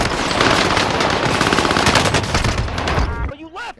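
Sustained automatic gunfire in the Call of Duty Warzone video game rattles loudly and continuously, then cuts off abruptly near the end as a voice briefly speaks.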